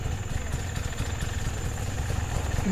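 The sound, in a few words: motorcycle engine idling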